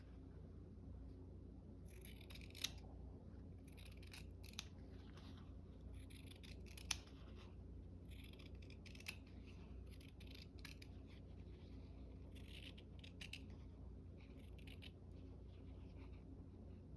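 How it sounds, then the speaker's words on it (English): Scissors snip through paper along a pencil line at a craft table, a series of crisp, close cuts in irregular bursts over steady low room noise. "I'm going to cut on the pencil line."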